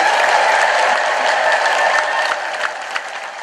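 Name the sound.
congregation ululating and applauding in thanks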